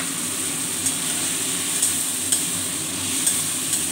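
A paste of ginger, cumin, coriander and chili sizzles in a pan for a potato and paneer curry, making a steady, bright frying hiss with a few faint clicks from stirring.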